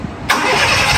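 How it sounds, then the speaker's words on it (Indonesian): A Honda City car engine starts: a brief low starter churn, then the engine catches abruptly into a loud, steady roar close by. "Kita akan nyalakan mesinnya Mas Edi ya."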